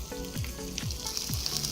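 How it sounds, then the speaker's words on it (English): Vegan chick'n cutlets coated in sauce sizzle on a hot grill, a steady soft frying hiss with a few faint pops and scrapes, no talking. "You hear that nice sizzle?"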